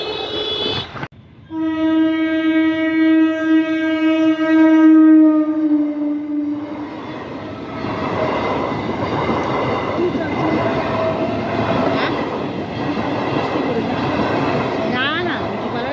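A level-crossing train sounds one long, loud, steady horn blast, then the heavy rumble of the train rolls past for the rest of the stretch, with voices faintly underneath.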